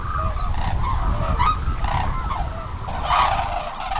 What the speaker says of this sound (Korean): 그 중에서도 단연 돋보이는 새는 겨울의 징객 흑두루미입니다.